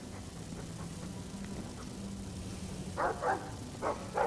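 A dog barks in the video game Dragon Age 2: a short run of four quick, fairly faint barks near the end, over a steady low ambient hum.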